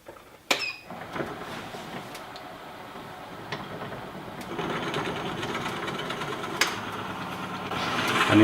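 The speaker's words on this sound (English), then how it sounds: "Turn the lathe speed way down." A wood lathe spins slowly while turning a peppermill, giving a steady, fairly quiet mechanical hum with a few sharp clicks and knocks, and the running noise builds slightly toward the end.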